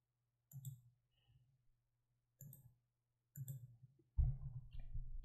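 Computer mouse clicks, sharp and isolated, a few separate taps spread out over several seconds, close and fairly quiet, with a low steady hum underneath.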